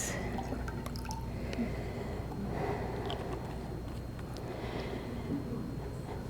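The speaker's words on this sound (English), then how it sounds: "I'm going to add a little bit of water that you brought me back from the Holy Land" Water brought back from the Holy Land trickles and drips softly into a bowl, a faint, continuous liquid patter over quiet room noise.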